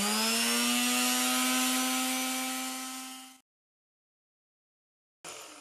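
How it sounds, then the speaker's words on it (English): A power sander runs on wood for a DIY Numberblocks craft, giving a loud steady whine that winds down and stops, then briefly starts up again after a short silence. "I am sanding."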